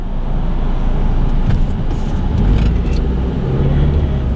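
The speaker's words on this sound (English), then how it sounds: "All this traffic's here" Road traffic with many cars idling and creeping at a set of traffic lights, a dense low rumble of engines and road noise, steady and fairly loud with faint higher sounds drifting through.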